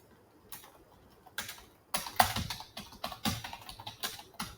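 Quiet keystrokes on a computer keyboard as a journal article title is typed, starting as sparse single taps and quickening into a steady run of close, crisp clicks.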